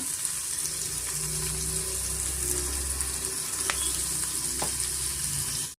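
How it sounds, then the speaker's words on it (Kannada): Onions fry in hot oil with a steady, close sizzle and crackle throughout, a few faint clicks and scrapes of stirring on top and no voices. "ಈರುಳ್ಳಿ ಇಷ್ಟು ಫ್ರೈ ಆದರೆ ನಮಗೆ ಸಾಕಾಗುತ್ತೆ"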